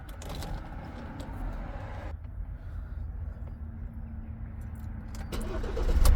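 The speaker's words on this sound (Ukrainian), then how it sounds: "Заводиться автомобіль з півоборота, працює рівно, стабільно справно." A Ford Transit van engine cranks and catches, then settles into a steady, even idle close by, rising slightly near the end.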